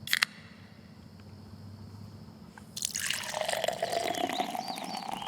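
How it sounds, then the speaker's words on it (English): Hard cider from Schaefer Orchards pours into a glass, opening with a few brief clinks and a quiet pause before a loud, continuous splashing gurgle of liquid that fills the rest. "our hard cider is so good, it pours itself."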